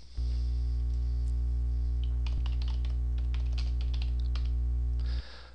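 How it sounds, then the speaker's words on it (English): Keystrokes tap out text on a computer keyboard, a quick scattered run of clicks over a loud, steady low electrical hum that cuts off near the end, with no speech. "For fixed text objects, we simply type the text."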